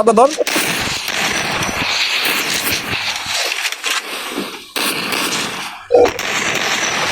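Gunfire in a Free Fire match crackles in repeated rapid bursts throughout, loud and close, while players talk excitedly over it.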